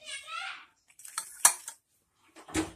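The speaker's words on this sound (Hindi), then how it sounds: "अब मैं इसको कड़छे की मदद से निकालूंगी।" A metal ladle clinks and scrapes against a tandoor while lifting out a wheat flour roti, with a few short bright metallic knocks. A voice speaks briefly between the sounds.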